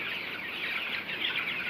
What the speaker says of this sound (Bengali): ব্রয়লার মুরগির ছাও